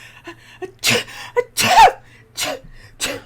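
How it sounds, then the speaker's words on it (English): Several sharp sneezes burst out in quick succession, close and loud, with short breathy gaps between them. "just sneezing."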